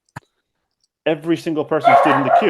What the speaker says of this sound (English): Apologies for the dog noise.